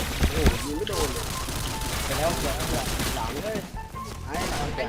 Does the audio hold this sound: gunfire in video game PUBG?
yes